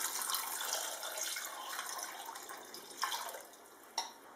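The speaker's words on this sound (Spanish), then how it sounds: "Cubrimos de agua" Tap water runs steadily into a saucepan of cut carrot and pumpkin pieces, a continuous close splashing flow with a couple of brief clinks near the end.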